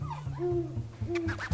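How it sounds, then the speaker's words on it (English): An owl gives two soft, low hoots in quick succession, quiet and isolated, with only faint background noise. "Owl."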